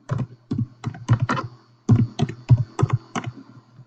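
A password is typed on a computer keyboard nearby, in crisp, irregular bursts of key clicks separated by short pauses.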